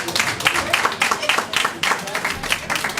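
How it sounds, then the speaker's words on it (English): Close, lively clapping from a banquet audience for the president at the JESA 8th Banquet, irregular bursts of hands with voices talking and calling out over them. "Give the president a round of applause."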